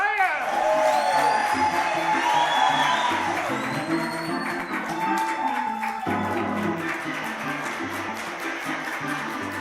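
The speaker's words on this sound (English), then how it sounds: "please keep that riotous applause for the players for tonight's show" A live theater audience at a radio show performance cheering, whooping and applauding for the radio players, a sustained roar of crowd noise while a voice speaks over it.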